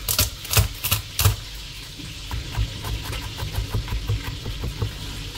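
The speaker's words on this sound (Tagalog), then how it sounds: "Maghihiwa lang tayo ng sibuyas," A kitchen knife chops onion, garlic and ginger on a cutting board in quick, uneven taps, a few sharp louder strikes at first, then lighter steady chopping, close up with no talking.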